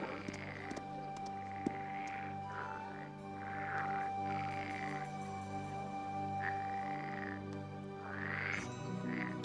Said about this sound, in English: Don't tell me you're afraid of a frog.